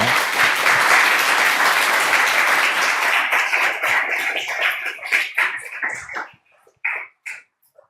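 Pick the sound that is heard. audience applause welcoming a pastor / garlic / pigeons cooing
audience applause welcoming a pastor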